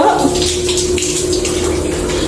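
Water gushes steadily from a newly installed shower faucet in a house under construction, a loud, close, continuous hiss and splash with no talk.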